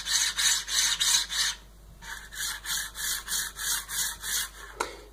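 Robotdigg linear rail on a 3D printer, run dry without grease: a loud, raspy grinding scrape repeating in rhythmic back-and-forth strokes, about a dozen passes with a short pause in the middle.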